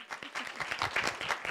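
An audience at a STEM education conference panel applauds, a dense, even patter of many hands clapping together for a short burst, with a few faint voices mixed in.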